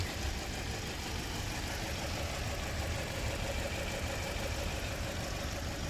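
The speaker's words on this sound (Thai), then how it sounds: "เครื่องสั่นน่าดู โตโยต้าเอาติดนะครับ" A Toyota Altis with a fuel stumble idles roughly and shakes, a steady, close, low engine rumble with a faint uneven texture throughout and no voices.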